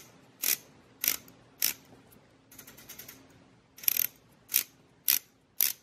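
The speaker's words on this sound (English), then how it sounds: "I'm going to show you the bezel action right now" Clicks from the rotating bezel of a Trintec Zulu Co Pilot automatic watch, heard up close: about eight crisp, evenly spaced ratchet clicks, with a quick run of softer clicks in the middle.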